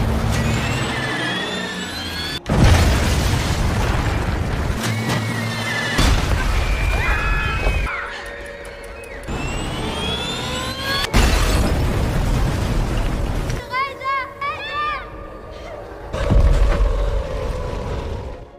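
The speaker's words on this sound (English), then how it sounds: "They began bombarding the building without any hesitation." Heavy booming blasts and rumbling impacts from bombs striking a school building during a World War 2 air raid, several loud explosions in succession with crackling debris and a whistling tone between them.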